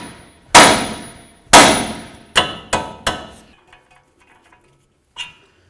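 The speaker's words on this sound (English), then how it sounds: "we're going to take a hammer and we're going to hit right here on the knuckle" Five sharp metallic hammer blows strike the steering knuckle of a 2007-2014 Cadillac Escalade, the first two heavy and ringing, the next three quicker and lighter, followed by faint clinks and one last tap.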